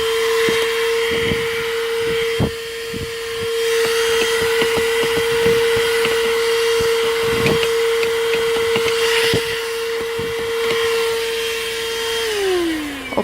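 A Hotor handheld car vacuum cleaner runs with a steady high-pitched motor whine, close and loud, over rattling clicks and bumps as the nozzle works across surfaces, then the pitch drops as it winds down.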